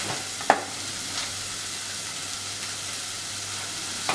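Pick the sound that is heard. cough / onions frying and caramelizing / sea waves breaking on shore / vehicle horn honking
onions frying and caramelizing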